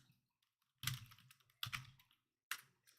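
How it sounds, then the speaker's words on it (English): Typing on a computer keyboard in a quiet room, three short bursts of rapid key clatter separated by near-silent pauses, close and fairly soft with no talking. "Guess we're typing."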